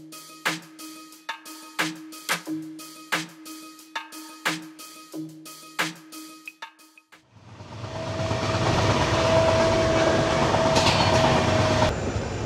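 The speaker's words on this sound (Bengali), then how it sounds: "অনেকটা বাঁক নিয়ে বেরোচ্ছে ট্রেন" The Amaravati Express takes a long curve over crossings: a run of evenly spaced clickety-clack wheel beats, then a swelling continuous roar of the moving train with a faint thin squeal over it.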